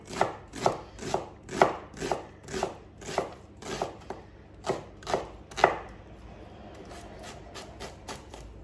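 A knife chops through an onion on a cutting board in a steady run of about ten crisp, close strikes, then gives way to quieter scraping and light rustling.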